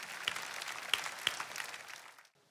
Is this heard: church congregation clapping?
yes